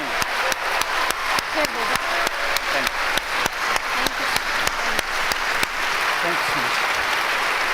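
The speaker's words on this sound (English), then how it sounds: "please everyone give a huge round of applause" Audience applause at the close of a public conversation with two guests, loud dense clapping that swells and rolls on, with a speaker's thanks heard over it.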